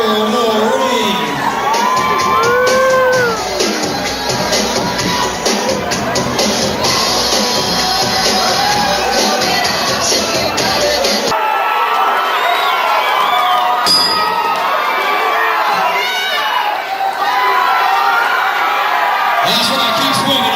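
A loud arena crowd at a boxing fight cheers, whoops and shouts continuously, with an announcer's amplified voice over the roar in the first half before the noise thins slightly and swells again near the end.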